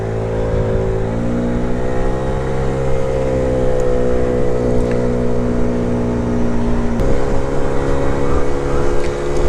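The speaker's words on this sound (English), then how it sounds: "from a standing start, it does seem to start moving quite quickly" A 2025 QJ Motor LTS 50 50cc scooter pulls away from a standing start, its small engine droning loud and close with a steadily rising pitch, one clear shift in tone partway through, and wind noise underneath.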